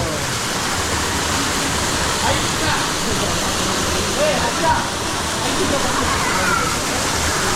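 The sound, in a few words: waterfall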